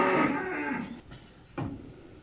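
Cows moo loudly nearby, one long low call followed by a shorter second moo, with faint insects chirring in the background.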